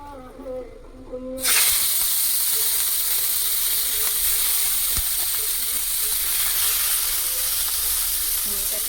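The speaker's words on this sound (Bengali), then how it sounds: "কড়া গরম হয়ে গেছে, চিংড়ি মাছ তুলে দিচ্ছি।" Prawns dropped into a hot pan for a Bengali prawn curry, a sudden burst of loud, steady sizzling that starts after a short spoken moment and continues evenly to the end.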